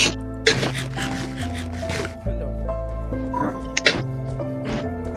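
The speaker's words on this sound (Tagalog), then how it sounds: "Kaninong aso yun?" A dog in the Minecraft video game barks several times in short yips and barks over game sounds, with people talking throughout.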